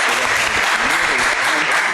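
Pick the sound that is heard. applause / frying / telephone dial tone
applause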